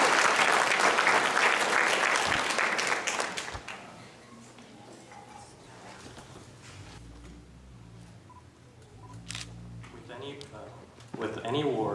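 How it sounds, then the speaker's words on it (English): An audience applauds loudly for a few seconds, the clapping fading out into quiet room noise before a voice starts speaking. "Please give a round of applause for Joseph."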